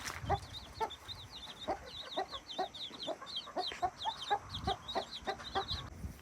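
A mother hen clucks in short repeated bursts while her chicks wander nearby, their high, thin peeps chirping almost continuously over the clucks, close and fairly quiet outdoors.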